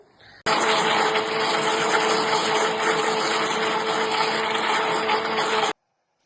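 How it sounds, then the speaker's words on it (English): A blender whirs loudly and steadily as it blends a wheatgrass smoothie, running alone for about five seconds after a sudden start and then cutting off abruptly. "now it's time to do the blending, so we're just going to whack the blender on now"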